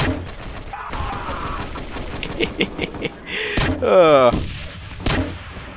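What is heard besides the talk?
grenade launcher firing in a video game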